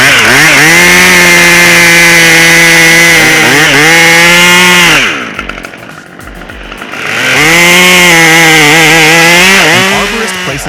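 A loud chainsaw roars steadily while cutting wood, dips to a lower idle for a couple of seconds midway, then revs back up to full cutting power.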